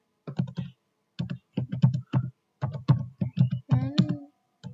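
A command is typed on a computer keyboard in quick bursts of close, crisp keystrokes separated by short pauses.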